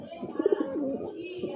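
A fancy pigeon coos close by in a soft, throaty burst of a few pulsing notes, followed by a quieter trailing coo over faint room noise.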